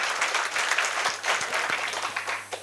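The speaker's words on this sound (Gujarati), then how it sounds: "એકવાર જોરદાર તાળીઓથી ભાઈજીનું અભિવાદન કરશું" Audience applause greeting a speaker at an agriculture and natural farming talk, a dense steady clapping from a crowd lasting throughout, fairly close and even in loudness.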